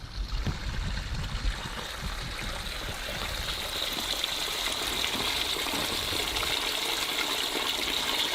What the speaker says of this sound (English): the water comes out of the bioremediation canal system